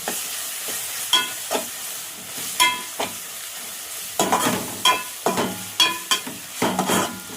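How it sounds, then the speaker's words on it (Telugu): Ginger garlic paste frying in a pan while a spoon stirs it, a run of sharp scraping knocks against the pan over a soft sizzle, close up with no talk. "ఇప్పుడు అల్లం వెల్లిగడ్డ వేసేస్తాం."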